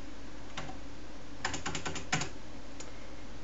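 Brief, quiet computer keyboard typing: a single keystroke, then a short quick run of clicks and one last tap over low background hiss.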